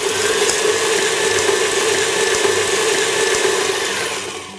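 An electric mixer runs on slow speed, creaming butter and sugar in a bowl for a fruit cake. Its motor gives a loud, steady whirring drone with a faint rattle and eases off slightly at the end, with no voices.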